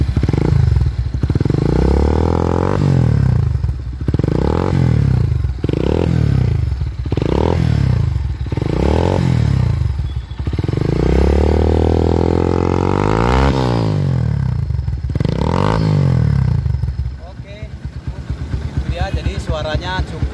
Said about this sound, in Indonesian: Akan kita nyalakan motornya. Ini sudah menggunakan knalpot Over.